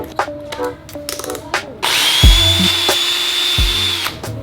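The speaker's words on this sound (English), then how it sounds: "then use that to drill holes in this piece and this piece right here" A power drill spins up and bores into a wooden stair railing piece with a steady high whine, preceded by a few clicks and handling knocks, then winds down.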